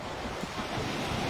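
Steady surf from the sea surrounding an island near Puerto Galera makes a continuous broad wash of waves and wind, with no voices over it.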